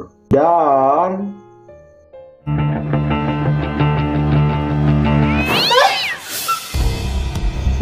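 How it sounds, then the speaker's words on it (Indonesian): A cat meows loudly and repeatedly up close in a kitchen, drawn-out wails with a whiny, warbling tone, followed by a sharp squeal. "ternyata itu cuma kucing"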